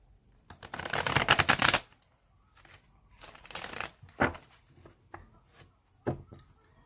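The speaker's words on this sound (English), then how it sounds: "I'm going to shuffle it 3 more times." A deck of tarot cards is shuffled by hand in several separate bursts of papery riffling and rustling, with quiet pauses between them.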